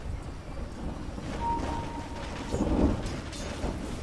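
Rumbling thunder and steady rain play as a sound effect in a video game, a continuous rain hiss under a low rolling thunder swell that peaks midway, with faint higher tones scattered through and no talking.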